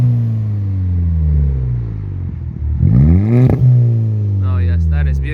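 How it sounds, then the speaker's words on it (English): An Audi A5 1.8T with a dump valve and a custom resonated catback exhaust revs, a deep droning engine note that climbs sharply and falls away in one strong blip, loud and close, with a brief hiss or flutter at the end. "we also fitted a Catback resonate system, which makes this car sound so meaty"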